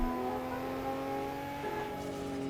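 A Nissan R34 Skyline GT-R engine in the game Assetto Corsa hums steadily with a smooth, tonal drone, cruising at moderate revs without sharp changes.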